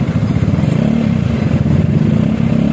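A Honda Vario 150 scooter engine fitted with a racing exhaust idles close by with a loud, steady low throb and a rapid pulsing rumble, holding even with no revving and no talk.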